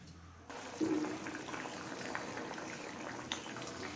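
Raw banana curry boiling on a high flame, a soft bubbling and gurgling that starts after a brief quiet moment and carries on steadily, with an occasional louder pop.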